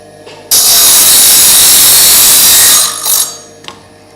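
A loud, close power saw roars through a golf club shaft, cutting it to length in one sustained burst before spinning down, followed by a faint clink.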